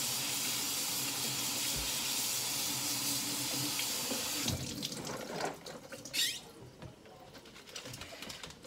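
Shrimp rinsed in a colander under a running kitchen tap, a steady loud rush of water for several seconds that then breaks into sloshing, splashing and dripping as the flow stops.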